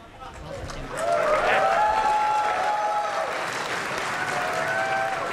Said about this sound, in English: What are they cheering for?